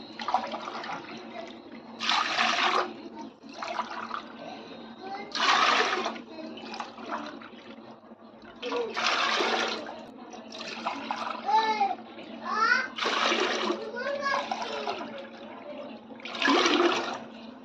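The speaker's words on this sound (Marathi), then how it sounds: "आपण हे माप सहा माप आपण पाणी ओतून घेऊया" Water is poured in measured batches into a cooking pot on a lit gas stove while preparing rice papad, in several splashing bursts spaced a few seconds apart with a voice talking in between.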